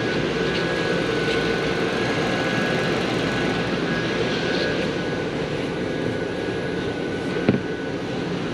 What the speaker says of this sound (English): I'm gonna turn on our AC. So AC is on.